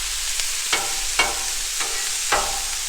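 Ground burger and vegetables frying on a Blackstone griddle, a steady hiss broken by about five scraping, stirring strokes from a spatula at an uneven rhythm, close up, with no voices.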